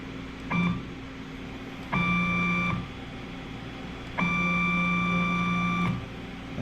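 Y motor of a GUNNAR 1000 machine running in three separate bursts, each a steady whining tone with a sharp start and stop, the last run the longest, over a quiet hum.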